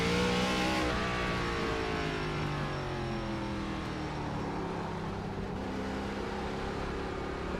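An ARCA race car engine in the iRacing simulator holds a steady, droning mid-level tone, with a brief rising rev at the start before it settles into a constant, fairly quiet hum.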